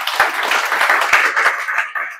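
An audience claps for a set of parents and their daughter in a short burst of loose, steady applause. The clapping is fairly close and there is no speech over it.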